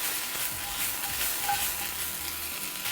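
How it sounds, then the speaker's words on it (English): Greens sauté for a few minutes in a pan over high heat, giving a steady, close sizzle with light stirring and the soft scrape of a utensil. No one speaks. "You cook these for like maybe 2-3 minutes on high heat."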